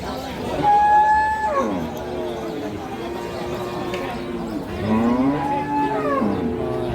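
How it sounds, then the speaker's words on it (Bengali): Cattle at a livestock market in Shariatpur, Bangladesh, where beef bulls are sold, give two long, loud moos, one early and one late, over steady crowd chatter and market noise. "মাংসের গরু আছে এখানে।"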